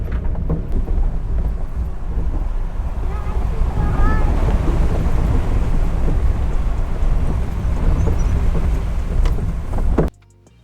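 Heavy rain drums on a mini caravan driving from Delhi toward Ladakh, a loud, steady roar of water and road noise that continues without a break and then stops abruptly near the end.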